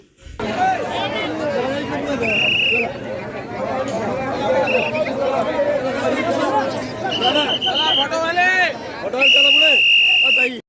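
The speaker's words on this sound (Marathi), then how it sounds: "तर बघा तुम्ही गर्दी किती आहे ती." A dense crowd at the Gajanan Maharaj palkhi darshan, with continuous close chatter and babble from many voices. Occasional shrill whistle-like tones cut through the crowd noise.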